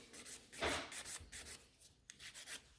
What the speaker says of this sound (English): I'm filing one side and then other side.